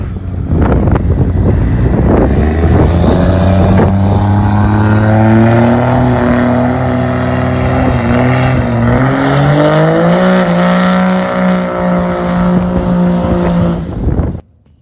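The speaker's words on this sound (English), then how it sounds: "So let's go ahead and do a burnout." A 2022 Cummins diesel truck with a big single turbo roars through a sustained burnout, its loud, steady engine note holding high and rising in pitch with turbo whine before cutting off abruptly near the end.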